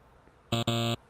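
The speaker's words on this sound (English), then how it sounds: "I gotta activate the buzzers." Game show buzzers sound in a quiet room: two loud electronic buzzes in quick succession, a short one followed by a longer one with a harsh, harmonic-rich tone.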